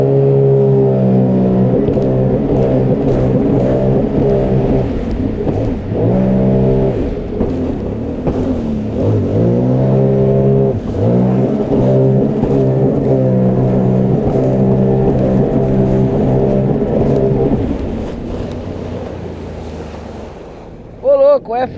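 A 2014 Sea-Doo Spark jet ski runs loud and steady with a droning, harmonic-rich engine note that dips and rises, nearing the listener and then dropping off sharply as the iBR brake bites, with wind buffeting throughout.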